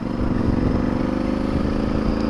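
A Honda Varadero 1000 motorcycle pulls away, its engine giving a steady, close mid-pitched drone with slight pulsing throughout, no talk over it.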